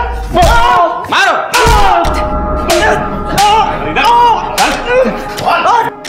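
Heavy thuds and slaps of blows land repeatedly in a police lockup beating scene from a crime drama, mixed with loud pained cries and shouting voices throughout.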